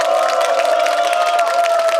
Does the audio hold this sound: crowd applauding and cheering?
yes